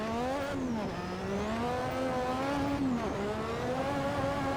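A 1960s Formula 1 car boosted to 1200 bhp accelerates hard, its loud, close engine whine climbing in pitch, dropping briefly at gear changes, then rising again.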